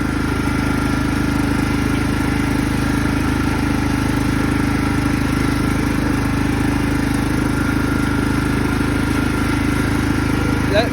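A homemade racing lawn mower engine runs steadily in fourth gear, a continuous, loud mid-pitched drone with constant rhythm and no pauses, close to the microphone throughout.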